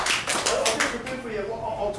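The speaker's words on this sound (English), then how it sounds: "Round of applause, guys" A group claps at a preseason gathering of the Richmond Premiers, a short burst of close, uneven hand claps with several distinct slaps, while voices talk over it.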